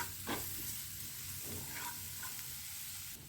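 Spices stirred into a mixture in a pan, with a continuous low sizzle and a few spoon scrapes and stirring strokes throughout, quiet and close.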